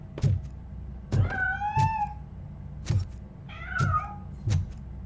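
A cat meows repeatedly in the video game Robocop Rogue City, several clear, drawn-out meows spaced a second or so apart, fairly close and alone over a quiet low background hum.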